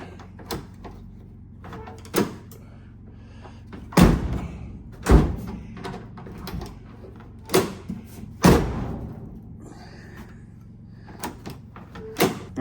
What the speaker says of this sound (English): I just hope the door opens.